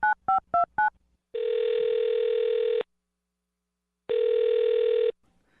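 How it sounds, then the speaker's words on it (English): A telephone call is placed. Four quick touch-tone dial beeps come first, then two long electronic ringback tones separated by a pause. The sounds are clear and close, with no talking. "I'll dial his phone number, get him on the phone"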